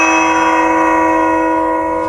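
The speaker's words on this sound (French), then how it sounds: "la cloche a sonné" A bell rings with a loud, sustained tone, its steady ringing filling the whole moment with no voices.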